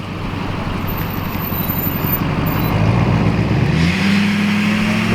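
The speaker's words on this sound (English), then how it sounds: "Ryan's gonna go and try to rip one with the dually." A dually pickup truck revs hard in second gear during a burnout attempt, its loud, steady engine roar climbing in pitch toward the end with no voices over it.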